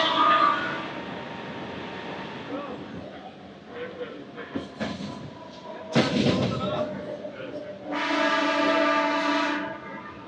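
A DEMU express train rolls past the small Reddipalli station without stopping, its wheels and carriage rumble steady from inside, with a few thumps and a sharp burst of noise partway through, and voices talk over it.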